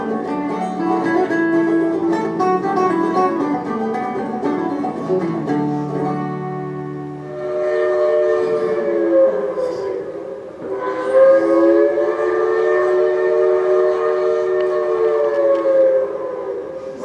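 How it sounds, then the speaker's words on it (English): A Georgetown Loop Railroad museum train in the Colorado mountains, with a long drawn-out steam whistle blowing in two sustained blasts over a steady rolling background. "we're going to take a little ride on the Georgetown Railroad"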